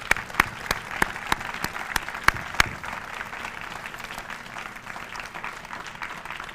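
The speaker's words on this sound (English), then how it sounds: "Would you join me in a round of applause?" A seated audience at an Army retirement ceremony claps in a steady round of applause, with a few sharp individual claps standing out near the front.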